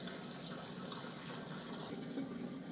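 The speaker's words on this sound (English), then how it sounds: "as you can see now the upper tank is filling" A pump fills an upper tank with water on a magnetic flow meter test rig. Water rushes and gushes in a steady, even stream throughout, fairly close, with no voices.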